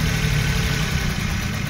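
Suzuki K6A turbo engine in a DA64W running rough on a bad misfire with the number 1 injector pulled, a steady low, uneven idle drone close by with no voices.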